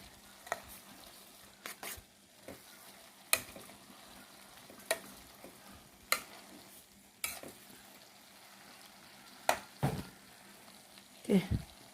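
Chicken curry base being sautéed in a pan, with intermittent scraping stir strokes over a quiet, low sizzle; moderately faint, with no talking.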